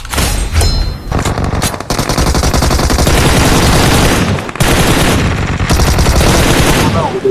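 Rapid bursts of automatic gunfire in the video game PUBG Mobile sound loud and close, firing in long rattling strings broken by brief pauses, with faint voices in the background.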